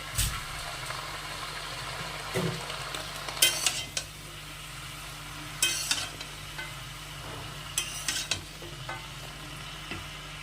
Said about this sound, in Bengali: পুরো পালং শাকটা দিয়ে দিলাম দিয়ে আবারও একটু নেড়ে চেড়ে দু মিনিট ভেজে নেবো